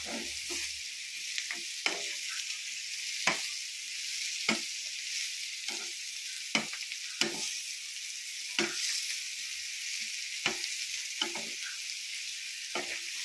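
Sliced bitter gourd frying in a pan gives a steady, soft hissing sizzle, broken every second or two by the scrape and clack of a spatula stirring, with no voices.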